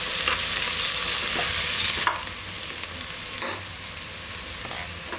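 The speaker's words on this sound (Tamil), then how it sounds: "இப்போ எண்ணெயிலே போட்டு வதக்கிக்கலாம்." Onions sautéing in hot oil in a pan for a country chicken biryani: a steady loud sizzle with occasional stirring scrapes.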